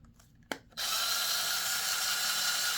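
Fanttik C10 Pro cordless electric scissors switching on in Eco mode after a brief click, then a steady, close motor whir and buzz that holds level until the end.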